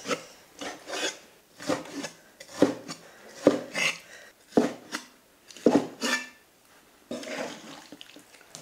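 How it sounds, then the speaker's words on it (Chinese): A knife chops beef into chunks on a board, about a dozen close, distinct strokes falling in an uneven rhythm, each with a short scraping rasp, no voices. "先把牛肉切块过一下水"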